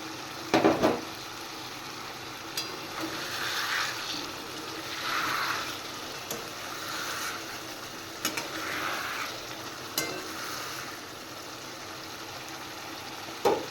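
A dish frying with chopped coriander leaves, with a soft, steady sizzle and occasional light scrapes and knocks of stirring, fairly quiet and close, with no talking.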